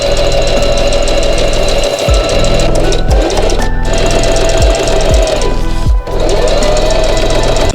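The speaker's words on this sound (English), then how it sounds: "We're going to start the sewing process." A sewing machine stitches wing suit fabric for a radio-controlled FPV wing suit, running as a loud, steady mechanical whir with brief stops and restarts scattered through the stretch.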